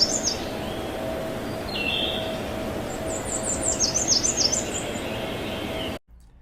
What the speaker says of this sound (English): Here are the soft notes of a Cape May warbler.